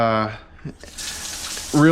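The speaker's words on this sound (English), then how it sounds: "I wanna get some hot water going" Hot water from a tap while reclaiming a silk screen, a steady broadband hiss of running water that starts midway, with a voice talking briefly before and after.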